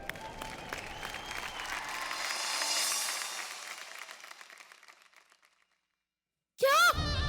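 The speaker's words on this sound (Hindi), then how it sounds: "जोरदार तालियां हो जाए इनके लिए।" Audience applause at a televised Indian drama talent show, a dense burst of clapping that swells, then fades away to silence before an abrupt loud sound cuts in at the end.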